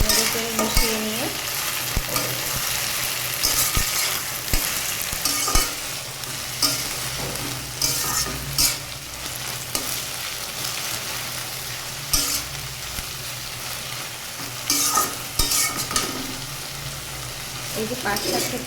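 Jute leaves fry in a pan with a constant sizzle, while a utensil stirs and tosses them in repeated scraping bursts for almost twenty seconds.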